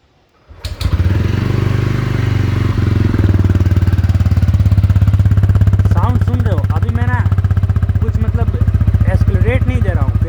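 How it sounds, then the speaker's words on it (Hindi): A 2026 TVS Ronin motorcycle engine starts and settles into a loud, deep, steady idle with a rapid rhythmic exhaust thump close by. "और बाइक का साउंड एक बार सुनो"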